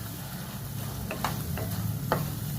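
Tomatoes cooking down for tomato bath are stirred in a pan, a steady low sizzle with a few soft spoon scrapes against the metal at irregular moments, close and moderately quiet.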